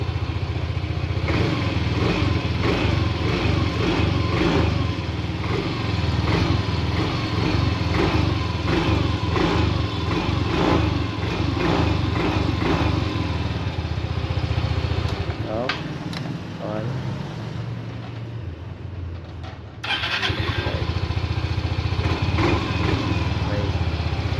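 A Yamaha Mio i125 automatic scooter engine runs steadily and loud up close, with a brief dip and restart near the end; the scooter has a starter problem where it comes alive when the key is turned on.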